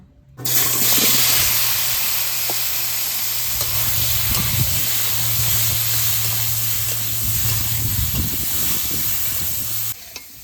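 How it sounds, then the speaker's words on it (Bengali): Eggplant slices fry in oil left over from frying eggs, making a loud, continuous sizzling hiss that starts abruptly and holds steady for about nine seconds, with soft stirring underneath and a low steady hum. "ডিম ভাজা তেলে বেগুন ভেজে নেব"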